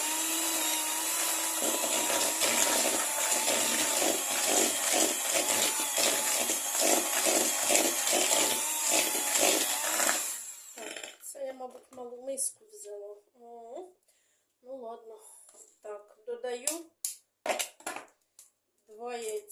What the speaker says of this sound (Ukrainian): до розтопленого маргарину, бачите, він у мене розтоплений, висипаю цукор і починаю збивати